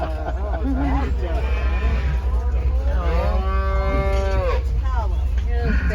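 Cattle at a ranch moo loudly and close, with several drawn-out, wavering calls overlapping amid a steady low rumble and background chatter from people.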